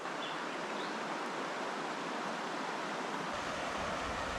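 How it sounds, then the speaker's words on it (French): Steady broadband rush of water in a clear forest river in Gabon where someone bathes, continuous and close with no voices. "Plein milieu de la forêt, belle rivière, l'eau est nickel"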